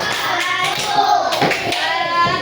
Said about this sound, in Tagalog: Kung kayo ay mapagmalasakit na bata, pumalakpak kayo ng 2 beses.